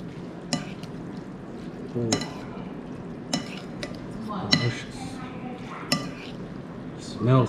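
Spicy ramen with fried noodles gets stirred in a pan, intermittent clacks and scrapes of utensils against the pan over a low sizzle, with a voice talking at times.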